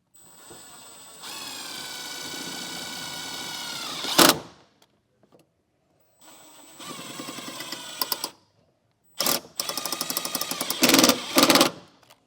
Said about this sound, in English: We'll just run 4 screws into the holes there, and we'll get those mounted up.